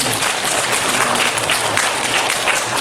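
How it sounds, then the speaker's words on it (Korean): A church congregation gives sustained applause during a Sunday worship service, a dense wash of many hands clapping steadily and fairly loud for the whole stretch, with no voices standing out. "업무 복귀했습니다. 박수!"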